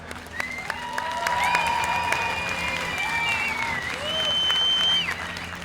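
A grandstand crowd at a professional drift battle applauds and cheers as a steady wall of noise. The cars' engines whine and shift pitch through the roar.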